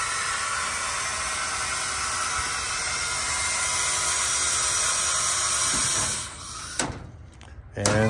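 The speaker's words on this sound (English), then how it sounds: "It's running the hydraulic pump." A hydraulic pump powered by a lithium battery runs with a loud, steady high-pitched whine for about six seconds, then cuts off, followed by a few clunks and rattles.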